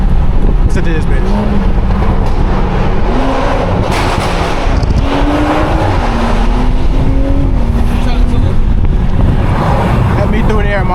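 At a car meet, a car engine revs loudly and rises in pitch across several sustained pulls, with wind buffeting and people talking over it throughout.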